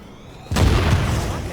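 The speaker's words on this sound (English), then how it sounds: "Gunshot." A single loud gunshot boom from the video game Tom Clancy's The Division bursts in halfway through, followed by a lingering rumbling tail over quiet game ambience.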